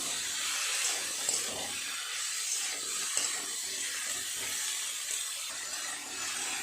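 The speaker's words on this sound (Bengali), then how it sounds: "গ্যাসের ফ্লেম জোরে রেখে এইভাবে একটু নেড়ে চেড়ে এগুলোকে ভেজে নেবে" Beetroot and carrot pieces sizzle in a pan over a high gas flame, a steady close hiss with faint scraping as they are stirred, no talking.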